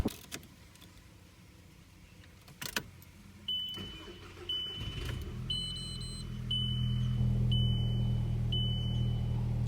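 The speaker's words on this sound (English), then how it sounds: "Let's start it up." A Volkswagen Golf GTI Mk5 engine with no modifications and stock exhaust turns over and settles into a steady low idle rumble, with a faint repeating electronic beep chiming above it.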